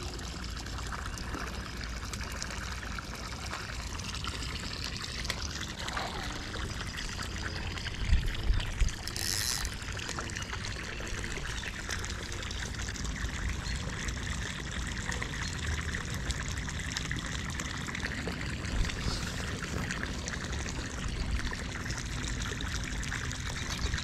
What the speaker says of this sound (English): We're gonna put him back in the water.